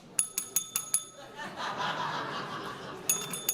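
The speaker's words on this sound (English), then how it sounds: "You like my bell, don't you?" A hand bell rung at a leadership gathering, five sharp bright rings in quick succession, then murmuring chatter and laughter from a crowd, then another quick burst of rings.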